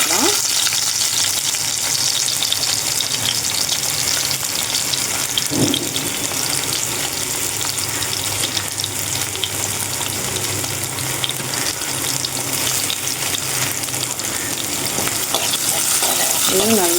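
Steady sizzling of small onions sautéing in hot oil, continuous and close, with occasional stirring scrapes and no talking.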